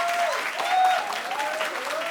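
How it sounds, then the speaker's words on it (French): An audience bursts into brisk, dense applause that swells briefly and stays lively, with a few voices mixed into the clapping. "ça va se voir que vous avez tous été payés pour m'applaudir là"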